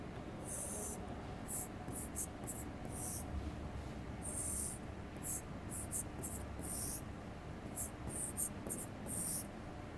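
A ULN2003 driver diagram being drawn on a board, quiet scratchy marker or chalk strokes in short repeated bursts over a faint background hum.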